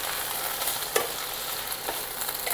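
Chopped okra and softened onion frying together in a pan over medium flame for bhindi masala, producing a close, steady sizzle with a couple of quick stirring scrapes.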